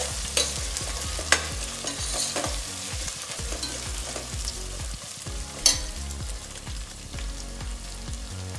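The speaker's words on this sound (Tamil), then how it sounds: "இப்போ நாலு பச்சை மிளகாய் கீறி வச்சிருக்கேன் 2 இலை புதினா இதையும் சேர்த்து நல்லா வதக்கு" Slit green chillies and mint leaves sauté in ginger garlic masala for a chicken broccoli gravy, with steady loud sizzling and repeated rhythmic stirring scrapes of a spoon against the pan throughout.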